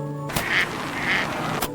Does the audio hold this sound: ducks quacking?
yes